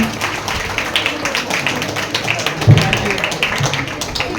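Children clap at a Teachers' Day event at Anjuman-e-Islam Anglo Urdu High School in Sangamner: a scattered patter of applause running steadily, with a stray louder tap and a voice talking over it.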